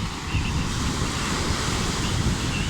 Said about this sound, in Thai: ลมเย็นมากคลื่นก็แรงครับ